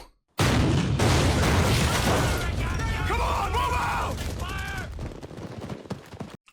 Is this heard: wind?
no